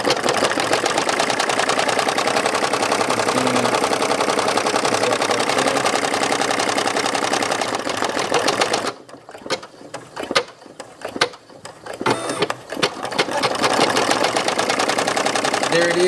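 A Brother PE770 embroidery machine stitching gold thread, a fast steady mechanical whirring and ticking that runs loud and close, then stops abruptly partway through, giving way to quieter handling noises and brief resumptions; a voice speaks over it.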